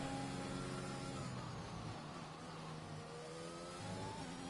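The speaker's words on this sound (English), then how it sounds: "here he goes in the McLaren" A McLaren race car in a racing video game roars through a hot lap on an Austrian circuit, its engine revving steadily and rising and falling through gear changes, close and continuous with no talk.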